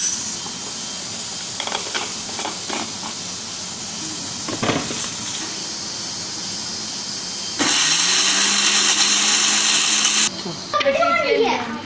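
An electric kitchen grinder whirs loudly for about three seconds, grinding a broken piece of nutmeg ball with spices for Lahori beef bong paya salan. Quieter kitchen sounds come before it, and brief voices follow.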